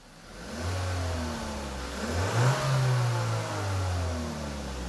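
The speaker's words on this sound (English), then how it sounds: "I'm sure you could kind of hear the engine at about the same time." A car engine revs during on-vehicle diagnostic work with a scan tool. The engine rises and falls in several close, fairly loud surges over a steady idle, and no one speaks.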